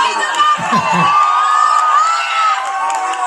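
Large crowd at a political rally cheering and shouting, a sustained roar with whoops and raised voices, close and loud throughout, with a brief burst of low rumble early on.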